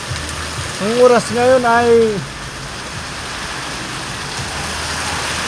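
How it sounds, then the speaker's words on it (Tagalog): Heavy summer rain pours down in a steady, dense hiss that fills the whole clip, with someone talking briefly near the start. "Sobrang lakas ang ulan."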